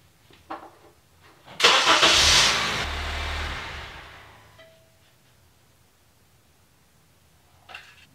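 A car engine cranks and catches after a top-up of oil in a garage, revving up loudly, then settling down to a quieter idle that fades, with a brief click near the end.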